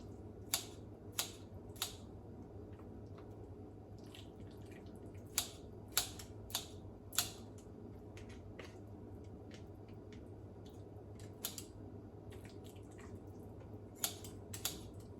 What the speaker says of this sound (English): Go back to the trusty scissors.